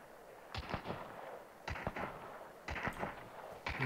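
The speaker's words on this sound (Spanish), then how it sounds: "Los disparos vienen de allí." Gunfire in the video game Hunt: Showdown, several clusters of sharp, fairly distant shots in quick bursts, with no talk.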